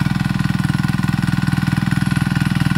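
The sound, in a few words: mini tractor engine running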